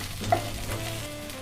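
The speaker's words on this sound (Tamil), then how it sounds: "நல்லா வதக்கிடலாம்" Onion and capsicum frying in a pan for chilli chicken, a steady close sizzle with a light scrape of stirring.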